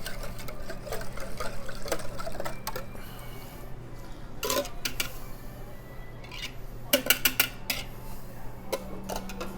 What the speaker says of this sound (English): So I'm going to whisk up our dressing here.